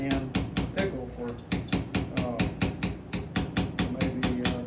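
Hand hammering on copper by a coppersmith, a steady run of sharp metallic blows in a brisk even rhythm, close and loud, with a brief pause partway through.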